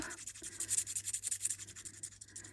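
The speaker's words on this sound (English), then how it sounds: "all I'm doing is with my nail and rubbing that across the top" A fingernail rubs back and forth across die-cut foil laid on card, a dry, papery scraping in quick repeated strokes, close and steady, with no talking.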